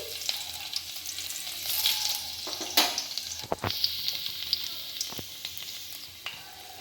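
Chopped garlic frying in white oil in a kadai, a steady close sizzle with brief stirring scrapes and crackles and no talk.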